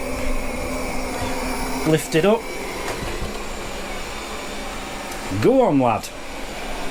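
A robot vacuum cleaner runs with a steady whir over a very thick rug, its motor and brush noise continuous throughout while someone talks over it in short bursts.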